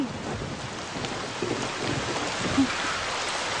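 Steady rain hisses in a dense, even wash of noise, with a faint low rumble underneath and no voices.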